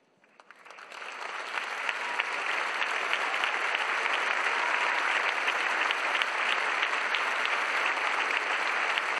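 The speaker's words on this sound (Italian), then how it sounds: "Si è aperta così ancora una volta con quattro minuti di applausi intensi e affettuosi rivolti al palco reale della Scala" Dense, sustained audience applause fills the hall at the La Scala season-opening premiere of Puccini's Tosca, a standing ovation aimed toward the royal box, building quickly and then holding steady and loud.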